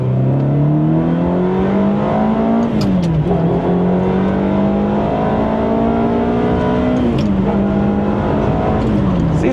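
A car accelerates hard through several gears, the engine note climbing and dropping at each shift, loud and close throughout with no talk.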